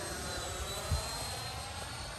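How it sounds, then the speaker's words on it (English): A Freewing F22 8S 90mm EDF radio-controlled jet flies by as a steady, moderately distant turbine-like whine with a constant airy roar, with one brief thump midway and no voices. "it flies similar to a sport jet"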